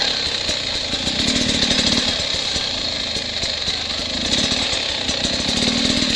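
Beta 300RR dirt bike engine running steadily while riding a muddy, marshy trail, a continuous buzzing drone with rough, rapid pulsing throughout at moderate loudness.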